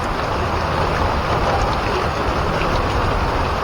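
Rain pouring down beside a river in Butuan City, a dense, steady broadband hiss of drops on surfaces, loud and unbroken throughout with no voices.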